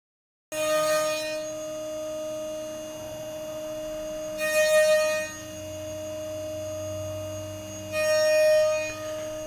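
A CNC machine cuts a rounding tool path with a steady, tonal machine hum throughout. Three louder bursts of cutting noise rise over the drone at regular intervals, with no voices.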